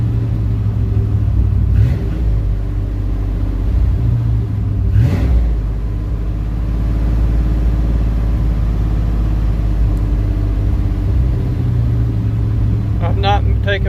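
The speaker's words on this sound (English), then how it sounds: "I'm not taking my foot off the throttle at all" An 1800hp car with a 347 engine held at full throttle, a loud continuous engine roar with a couple of brief surges, while people talk over it.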